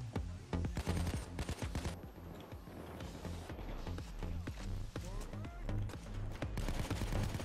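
Rapid gunfire aimed at a sniper during a Payday 2 heist, dense close bursts of shots and clattering impacts throughout, with players talking over the battle.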